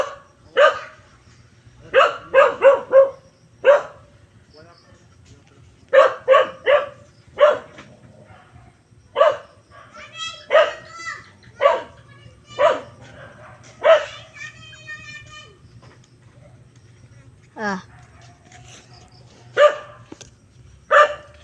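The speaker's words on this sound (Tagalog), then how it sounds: "para tumigil yung bark ng aso" A dog barks repeatedly in short bursts and clusters, loud and close, with brief pauses between volleys and a low steady hum underneath.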